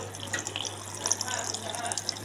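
Water runs steadily from a tap while an LG automatic washing machine duct is being cleaned, a quiet continuous splashing flow with a faint hum underneath.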